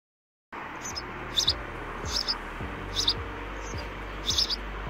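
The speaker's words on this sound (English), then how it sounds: "Bird nest inside drain pipe." Birds chirp from a nest inside a drain pipe, with short bursts of high tweets every second or so over a constant hollow rushing background.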